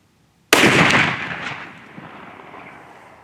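A single loud, sharp rifle shot from a new custom rifle cracks close by outdoors, then fades in a long rolling echo over the next few seconds with no talk.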